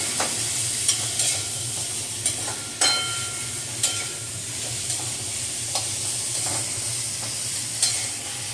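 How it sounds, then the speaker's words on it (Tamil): Onions sautéing with a little salt in a pan for a paneer dish, a steady low sizzle with sharp scrapes of a spoon stirring at irregular intervals. "இப்போ வந்து இந்த வெங்காயம் வந்து ஒரு 2-3 நிமிஷம் வதங்கட்டும்."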